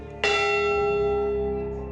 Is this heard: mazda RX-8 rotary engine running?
no